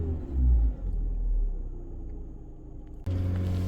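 A Fiat 500 Selespeed car engine drones at a low, steady idle, then the revs jump up sharply near the end, louder and throatier, with a suspected throttle fault.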